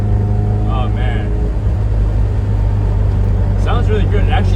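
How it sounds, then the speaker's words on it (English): Toyota MR2 Spyder engine and exhaust drone steadily from inside the open-roof convertible while driving, a constant low rumble with voices speaking over it. "It actually sounds quieter with the roof off. Exhaust sounds better, sounds cleaner."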